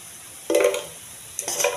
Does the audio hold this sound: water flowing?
no